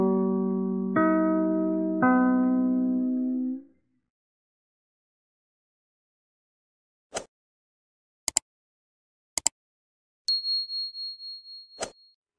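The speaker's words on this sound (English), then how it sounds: "Three chimes mean good times on NBC." The NBC radio chimes play three mellow bell tones in rising succession, each ringing out and overlapping before fading. Silence follows, then a few isolated sharp electronic clicks and a short beeping tone.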